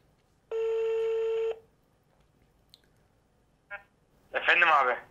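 An outgoing call gives one long, steady telephone ringback tone, then silence, a short beep and a brief voice answering.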